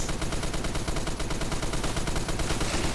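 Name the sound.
M60 light machine gun firing in Phantom Forces video game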